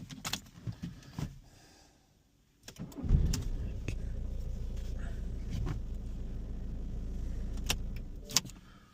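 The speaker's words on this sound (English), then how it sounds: "So the original key is still starting the vehicle fine." A Citroen C4 Cactus started with its key: keys jangle and click, a brief crank, then the engine catches and settles into a steady close idle.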